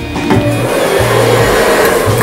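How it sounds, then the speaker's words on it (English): A freestyle blow dryer drying hair while a pompadour is styled, its motor whirring in bursts that rise and fall as it is worked over the head, loud and close, with no speech. "We got our good old freestyle blow dryer"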